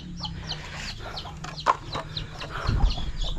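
A chicken clucks in short, scattered bursts close by, with faint farmyard background noise.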